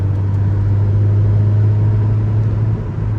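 An old, beat-up, dusty Honda Civic engine idles steadily with a loud, continuous low hum and rumble, slightly uneven, running alone close by.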